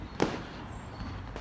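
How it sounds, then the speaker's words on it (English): A cheap fireworks sound effect gives a single sharp pop with a brief crackling tail, quick and fairly close over a quiet background. "we cue some very cheap special fireworks effects"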